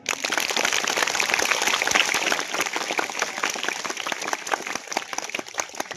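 An audience claps together after a bhajan at a Ganesh Navaratri programme in a school, a dense, steady wash of applause that stays loud for several seconds before thinning slightly.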